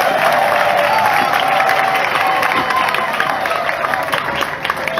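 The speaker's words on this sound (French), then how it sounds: "Applaudissez alors pour notre mère" Church congregation at a thanksgiving Mass in Douala, Cameroon, applauding with a loud, continuous wash of clapping and crowd noise, a faint voice or cheer riding over the steady roar throughout.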